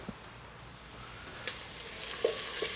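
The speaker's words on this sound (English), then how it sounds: "we're just going to brown these onions up a little bit" Onions browning in a pan give a faint, steady sizzle, with a few soft clicks and taps from stirring and no voices.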